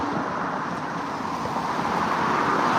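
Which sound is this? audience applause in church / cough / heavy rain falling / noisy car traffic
noisy car traffic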